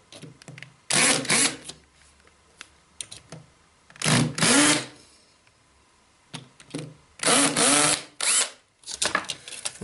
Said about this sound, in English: I've set my drill up with that small drill bit I showed you earlier on